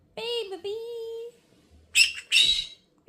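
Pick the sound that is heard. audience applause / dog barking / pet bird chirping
pet bird chirping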